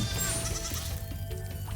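Sheep bleat in Spyro the Dragon, a steady wavering bleat at moderate loudness over busy game music and ambience.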